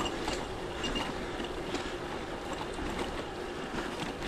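Steady motorway traffic on the A7 roars as a broad wash of noise while a cyclist crosses over it on a rural road, with no talking.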